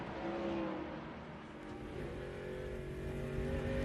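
A NASCAR Busch Series race car engine drones steadily in the distance at a 2006 race in Mexico, a sustained roaring hum with a slight rise in pitch, no voices.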